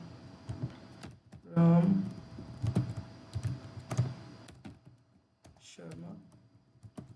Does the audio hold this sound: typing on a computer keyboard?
yes